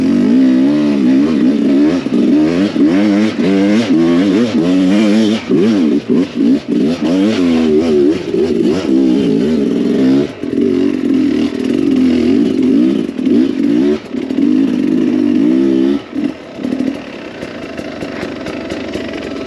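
Carbureted dirt bike engine with a Smartcarb carburetor climbing a hill, revving loud and close with rising and falling pitch through continuous throttle changes, no talk.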